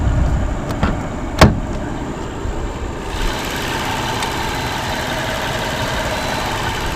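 A BMW 760Li 6.0-litre V12 engine idles steadily with a low, even rumble, fairly quiet and close, with a brief click early on.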